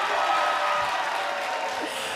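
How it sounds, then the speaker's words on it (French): A studio audience on a Friday evening television show applauds steadily and fairly loudly throughout, a dense continuous clatter of clapping hands. "Vous devez vous applaudir et bien fort."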